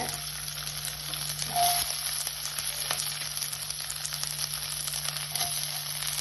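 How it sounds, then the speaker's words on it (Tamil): Shallots and dried red chillies frying in hot oil with fennel and cinnamon for a Coimbatore-style goat blood fry, giving a steady close sizzle with faint crackles and a low background hum throughout. "இது நல்லா பொரிஞ்சதுக்கு அப்புறம் இந்த சின்ன வெங்காயத்தையும் வரமிளகாயும் சேர்த்து போட்டுக்கோங்க"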